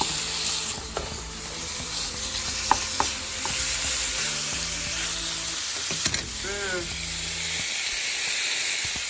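Seasoned ground beef frying in a pan for a cheeseburger quesadilla, broken up with a utensil: steady sizzle with scraping and tapping of the tool, a short voice briefly in the background.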